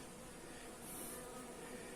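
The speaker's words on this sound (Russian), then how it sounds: "пчелки из ближайшего улья нашли уже этот мед в ведерочке и начинают за ним прилетать" Honeybees and wasps buzz around a bucket of honey near a hive outdoors, a faint steady drone of many insects with no voices.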